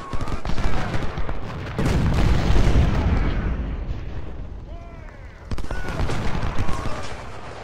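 Musket volleys crack and rattle across a Civil War battlefield at Shiloh in the video game Ultimate General Civil War. Loud overlapping rounds of gunfire and booms swell, ease off and return, with some battle noise layered underneath.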